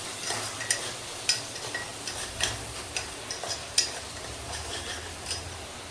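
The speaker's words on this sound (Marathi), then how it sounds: "हे पुन्हा एकदा चांगलं मिक्स करून घेते" A spoon stirring khichdi in a pot after turmeric and salt go in, with soft scraping and intermittent metallic clinks against the vessel, quiet and close with a faint sizzle beneath.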